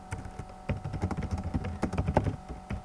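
Fast typing on a computer keyboard, a close, steady patter of light key taps in irregular bursts, heard alone in a quiet room.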